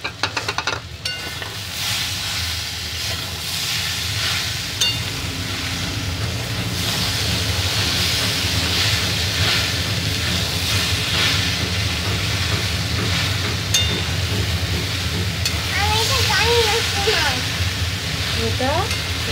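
Lote fish (Bombay duck) fries in hot oil in a pan, a loud continuous close sizzle and crackle that holds steady for the whole stretch, with faint background noises near the end.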